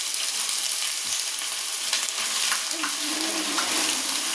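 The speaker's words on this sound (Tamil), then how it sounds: "எண்ணெய் சூடு ஏறிடுச்சு இப்போ வந்து நம்ம கொஞ்சம் கொஞ்சமாக இஞ்சி ஆட் பண்ணிக்கலாம்" Ground ginger paste added bit by bit to hot oil for a spicy ginger thokku, producing a loud, continuous hissing sizzle with occasional spits and crackles throughout.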